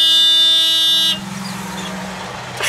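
A Volkswagen Kombi van's horn blares on its own in one long, loud, steady honk that cuts off abruptly, leaving quiet background and a faint rumble.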